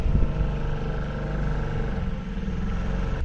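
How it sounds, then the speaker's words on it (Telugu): Motor of a slow sightseeing boat on the Kerala backwaters drones on steadily, a close, low chugging hum that carries evenly throughout with no talking. "ఇది ఓన్లీ సైడ్ సీయింగ్ బోటు, ఇంతే వెళ్తుంది"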